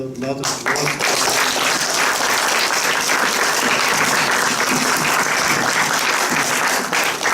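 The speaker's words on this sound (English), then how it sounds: "let me take the opportunity to actually give a big hand of applause to Sid" After a brief voice at the start, applause breaks out from the panel discussion audience, a loud dense clapping that stays steady to the end.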